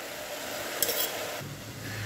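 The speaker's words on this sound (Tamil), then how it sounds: "எல்லாத்தையும் சேர்த்து ஒரு பரட்டிட்டு" Chopped vegetables sizzle steadily in a pan while being stirred and scraped through, with a brief louder clatter partway through.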